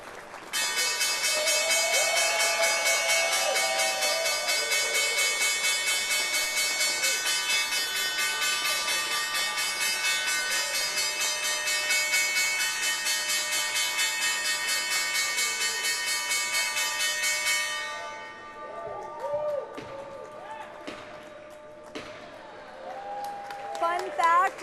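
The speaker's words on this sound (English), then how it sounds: "hear them ring that bell." A loud closing bell at the New York Stock Exchange rings continuously for about eighteen seconds, then stops, leaving crowd noise, cheering and scattered voices.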